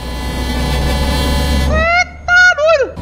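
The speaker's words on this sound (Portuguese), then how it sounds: "Deixa eu ver a buzina." Deep horn on a truck being tested, sounding after a steady engine hum: one long blast, then two shorter, close and loud honks with pitch sagging at the end.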